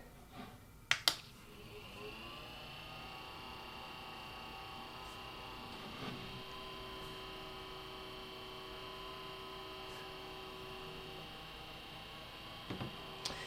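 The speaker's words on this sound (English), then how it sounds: "the sound of the motor resonates through the desk" A small OA SquareMini rechargeable desk fan runs on its lowest setting with a faint, steady motor hum and a thin whine, resonating through the desk, preceded by a couple of sharp clicks near the start.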